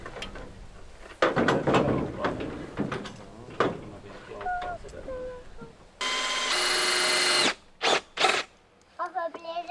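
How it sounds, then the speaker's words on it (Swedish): A power drill bores holes into wood in a Swedish forest setting, with short bursts of loud whirring separated by knocks, handling noises and a few bird-like chirps. "Det blir det då man borrar."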